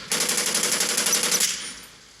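Rapid automatic gunfire from the naval combat game Modern Warships, a dense, loud burst of repeated shots lasting over a second, then cutting off and fading into a short tail.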